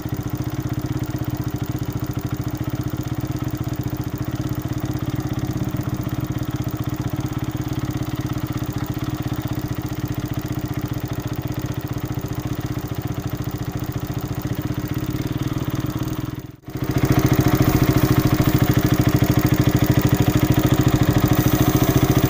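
A motorcycle engine with a hard-starting problem idles steadily with a low, throbbing rumble, briefly dips near the end, then picks back up slightly louder.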